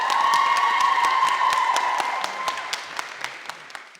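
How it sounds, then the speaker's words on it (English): An audience applauds the Spotlight Stage School Friday group in Limerick, with a dense, steady round of clapping and a few cheers over a held note that fades as the clapping tapers off. "Can we give them a round of applause"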